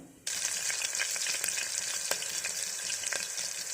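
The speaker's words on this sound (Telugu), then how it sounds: "ఆయిల్ కాగిందండి. ఇప్పుడు ఆనియన్స్ వేసుకుందాం." Onions dropped into hot oil in a pressure cooker, a sudden burst of bright sizzling after a quiet start, then a steady loud crackle with scattered sharp pops continuing to the end.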